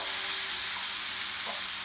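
Vegetables with onion and garlic fry in a pan, giving a steady, close broadband sizzle that holds evenly throughout with a few faint stirring scrapes and no talk.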